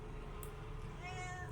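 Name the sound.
cat meowing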